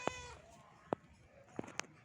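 A cat meows several times, short faint cries spaced irregularly with a quiet room behind them.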